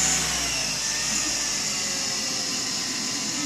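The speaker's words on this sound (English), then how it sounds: "There's a point there where it runs at its highest RPM." A car alternator converted into a motor spins at high RPM, giving a steady, loud whirring whine with a constant airy hiss that holds evenly throughout with no talk.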